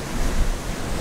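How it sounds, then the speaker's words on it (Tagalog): Ocean surf at Pundaquit beach rolls in as a steady, loud wash of broadband noise mixed with wind buffeting the microphone, with no voices over it. "yung alon"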